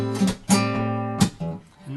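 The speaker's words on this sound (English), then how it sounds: "And to speed, it sounds like this." Acoustic guitar played at full speed from a song part, open low E and chord tones mixing plucks with percussive thumb slaps; several sharp accented hits over sustained ringing notes, close and loud, no voice.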